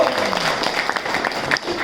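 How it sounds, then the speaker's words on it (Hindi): Audience applause for a mentor at a business gathering, a dense, steady wash of clapping lasting the whole short stretch, with voices mixed into the crowd noise. "आज का सेशन मैं चाहता हूं कि हमारे मेंटोर प्रेम सर के लिए जोरदार ताली।"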